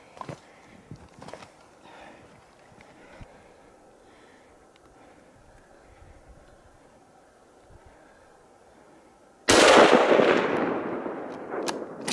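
A single loud rifle shot cracks out during a mountain mule deer hunt and rolls away in a long decaying echo, preceded by quiet outdoor ambience with faint rustling and small movements.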